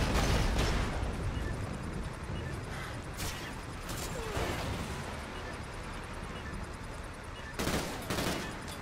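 Shotgun fire in a video game sounds as dense, noisy bursts of gunfire that fill the whole stretch, with several louder blasts standing out, loud and close, and game ambience running underneath.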